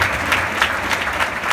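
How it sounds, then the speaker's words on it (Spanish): An audience at the Pan American Games ceremony applauds in a continuous, even roar of many hands clapping, with no voices rising above it. "Un aplauso para ellos,"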